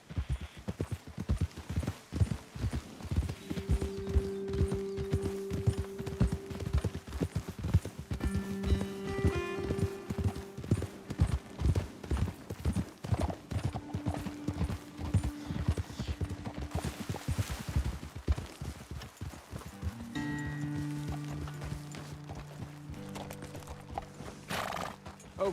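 Horse hooves clip-clop steadily in Red Dead Redemption 2 gameplay as several horses travel together, with occasional neighs and whinnies partway through and a game score playing underneath.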